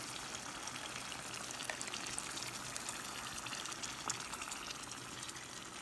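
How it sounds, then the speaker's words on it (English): Steady pouring of tomato sauce from a small can trickles and splashes continuously, close by, with no talk over it. "I'm going to pour in the rest of this can of tomato sauce"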